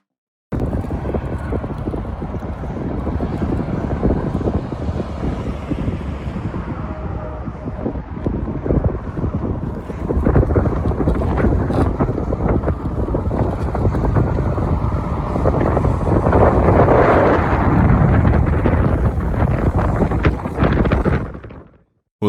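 Wind gusting across a frozen lake, a loud continuous rushing roar buffeting the microphone, rising stronger in the second half before cutting off abruptly.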